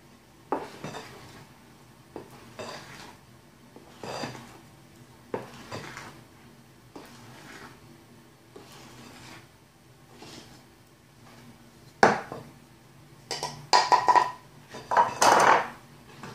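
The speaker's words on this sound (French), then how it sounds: "Tout en mélangeant avec une spatule en bois." A wooden spatula scrapes and stirs in a pan with repeated rhythmic strokes, then louder clattering of pans and utensils near the end.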